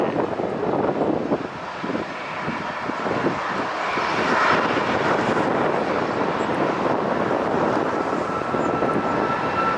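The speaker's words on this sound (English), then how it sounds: "And here goes the liftoff of the Southwest" A Southwest airliner takes off at LAX, its jet engines roaring as a broad, steady rumble that swells and holds for several seconds, with wind buffeting the microphone.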